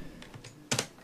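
A few quick keystrokes on a computer keyboard, close and fairly quiet, ending in a louder double clack.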